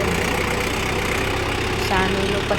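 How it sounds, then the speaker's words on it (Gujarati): A tractor engine runs steadily while the tractor turns in a farm field, giving a loud continuous drone close by, with someone talking over it. "ટ્રેક્ટરનો ટર્ન લીધો"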